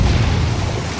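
Frag grenade going off in the tactical shooter Ghost Recon Wildlands, a dense, sustained low boom with rumbling debris filling the whole short burst at close range.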